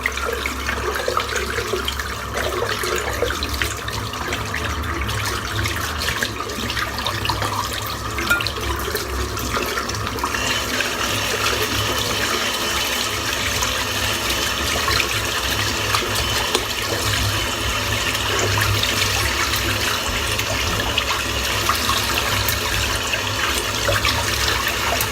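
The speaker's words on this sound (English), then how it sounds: "I'll just rinse off the soap in the brush." Tap water runs steadily into a sink while soap is rinsed from a shaving brush, a continuous close splashing rush with no voices.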